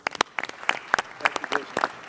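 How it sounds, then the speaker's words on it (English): Short burst of scattered clapping from a small roundtable audience on hospitality and tourism, a few distinct claps close by and at moderate volume. "I think that's worth a round of applause."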